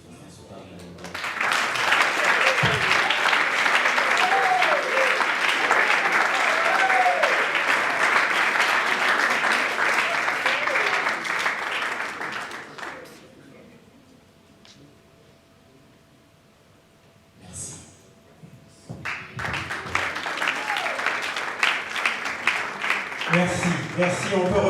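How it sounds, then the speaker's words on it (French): Loud, sustained crowd applause at a Congolese comedy awards ceremony, a dense roar of clapping that fades into a quieter lull, then swells again near the end with whistles and a voice over the top. "je vous demande d'applaudir frénétiquement pour M. François Paris-Lambert."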